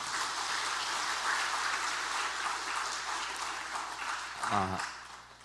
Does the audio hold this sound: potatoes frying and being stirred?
no